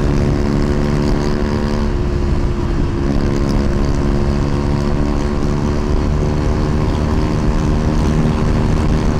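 A Yamaha NMAX scooter being ridden gives a loud, continuous engine drone with steady road and wind rush, close and unbroken throughout, with no talk.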